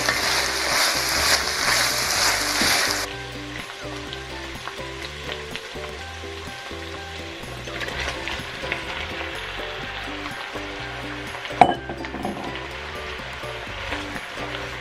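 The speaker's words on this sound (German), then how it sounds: "hier brät gerade was Gehacktes an" Minced meat fries in a pan beside onions and kohlrabi for a stew. Loud, hissing sizzle at the start gives way to quieter, steady crackling with occasional clinks and stirring.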